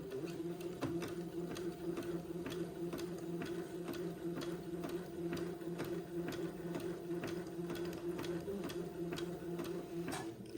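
A sewing machine zigzag stitching a collar sews at a steady, close rhythm with a fast, even ticking of needle strokes over a constant motor hum, running without pause and without talking.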